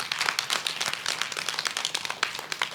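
An audience at a Rare Disease Week young-adult advocacy event applauds, giving dense, continuous clapping at moderate loudness throughout, with no voices.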